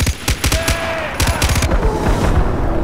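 Gunfire in the video game Far Cry 4, loud rapid bursts of automatic shots followed by a heavier rumbling blast, close and alone.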